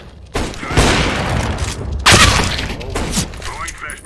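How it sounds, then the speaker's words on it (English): A flashbang grenade goes off in a video game with two loud, broadband bursts, the second sharper, over a busy, noisy game mix with gunfire-like clatter. "Throwing flashbang."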